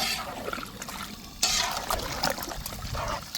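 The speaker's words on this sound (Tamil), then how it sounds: "அதுக்கப்புறமா தான் தண்ணி ஊற்றி வேக வைக்கணும்" Water is poured into a pan of spiced chicken curry with coriander, mint and curry leaves, making a sudden splashing gush followed by continued trickling and bubbling liquid sounds up close.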